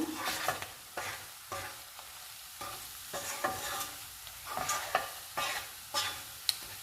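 Egg curry with Guntur chili powder being stirred in a pan, a spoon scraping in a steady rhythm of repeated strokes over a faint sizzle, close and fairly quiet, with no voices.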